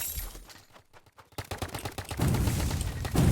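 A fire gun in Roblox Big Paintball 2 rattles off rapid bursts of shots, sparse at first, then swelling into a loud, dense, continuous barrage close by.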